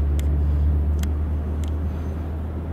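A car driving along a road, heard from inside as a steady, loud low engine and road rumble with a few faint high ticks, no voices.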